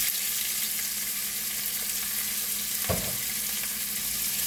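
Whole garlic cloves and half an onion sizzling in oil over a low flame, a steady, crackling fry with one brief clunk partway through.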